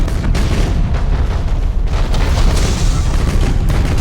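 Dense, continuous roar of explosions and impacts battering a frigate in a space battle in Battlefleet Gothic: Armada, loud and rumbling with overlapping bursts throughout.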